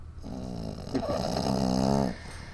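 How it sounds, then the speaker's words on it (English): A dog snoring close by indoors, a drawn-out rumbling snore with a throaty, fluttering inhale lasting a couple of seconds, heard on its own. "He's snoring."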